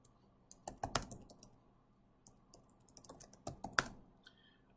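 Typing on a computer keyboard in bursts of close, crisp key clicks, a short flurry near the start and another toward the end, with quiet pauses between.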